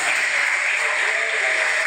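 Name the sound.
church congregation applause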